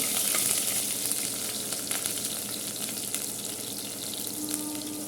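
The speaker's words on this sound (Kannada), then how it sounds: "ಆನಿಯನ್ನ ಆ್ಯಡ್ ಮಾಡೋಣ ಫ್ರೆಂಡ್ಸ್ ಅದು ಸ್ವಲ್ಪ ಎಣ್ಣೆಯಲ್ಲಿ ಫ್ರೈ ಆಗಬೇಕು" Onions frying in oil in a pan for a hotel-style rice bath, a loud, busy crackling sizzle that runs continuously and eases slightly toward the end.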